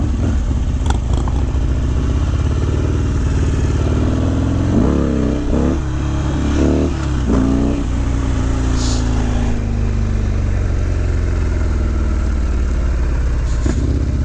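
A motorcycle engine runs steadily while a new bike is ridden on a tour around Rockville, rumbling close and loud, with a few revving gear changes in the middle and no talk.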